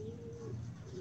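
Sialkoti pigeons coo faintly and steadily in a low, drawn-out murmur with a slight swell near the end, heard softly from close by.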